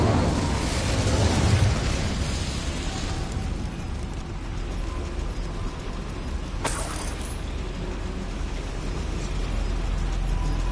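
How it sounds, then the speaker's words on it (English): An incendiary spell going off in a fantasy video game inside a goblin mine, a loud rumbling burst that fades into a sustained roar with a sharp crack partway through and no talk. "Incendiary."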